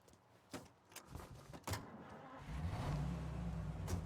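A car in Mafia: Definitive Edition starts up and drives off, with a few clunks and door-like knocks first, then a rising engine rumble that swells steadily toward the end.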